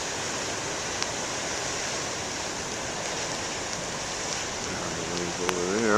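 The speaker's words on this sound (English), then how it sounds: "Waves over there." Big ocean surf near a lighthouse roars as a steady, broad wash of breaking waves, loud and unbroken, with a faint voice near the end.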